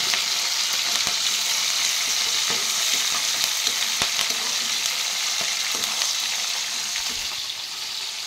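Mustard seeds fry in hot oil for an aloo kurma, a loud, dense crackling sizzle with frequent sharp pops and ticks, steady and close with no voices.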